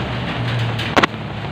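Rain falls outdoors as a steady broadband wash, with one brief loud crack or bump near the middle, no talk heard.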